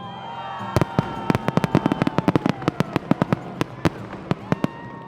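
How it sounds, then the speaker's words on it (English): Fireworks crackle and pop in a rapid, irregular string of sharp bursts over the frozen Yukon River on a winter New Year's night, fairly close, over a steady background hiss. "a bundled-up crowd gathers to watch fireworks over the frozen Yukon River"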